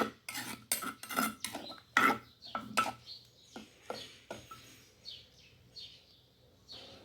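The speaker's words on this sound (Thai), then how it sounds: "การที่เราละลายพริกแกงก่อนพริกแกงของเราจะไม่จับตัวเป็นก้อนค่ะ" A utensil clinks and scrapes quickly in a mortar, stirring to dissolve pounded curry paste into liquid, a burst of close taps that fades to softer stirring while faint birds chirp in the background.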